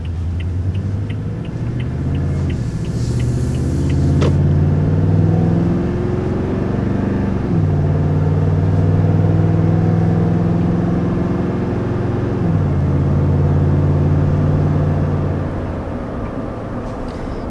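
A 2020 Toyota Tundra TRD Pro pickup with a V8 engine gathers speed. Its deep engine rumble rises through the gears, the pitch climbing and then dropping at each shift, loud and steady inside the truck.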